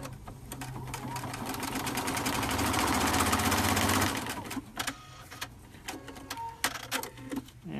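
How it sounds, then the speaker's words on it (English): A sewing machine runs a zigzag stitch in a fast, steady mechanical whir that builds for about four seconds, then stops, leaving scattered clicks and handling noises close by. "you also want to sew a zigzag"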